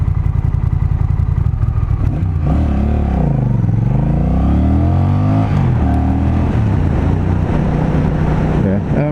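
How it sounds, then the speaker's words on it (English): A Honda Rebel 1100 cruiser motorcycle accelerates hard on a road, its engine note climbing, dipping at a gear change, then rising again. The loud, close revving is mixed with rushing wind. "I can show you just how brisk the acceleration is"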